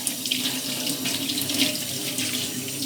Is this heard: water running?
yes